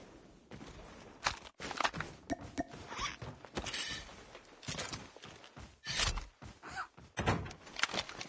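Sliding and slamming doors in the Call of Duty Mobile battle royale, with repeated sharp mechanical clunks and scrapes mixed with footsteps and game noise throughout, fairly loud and busy.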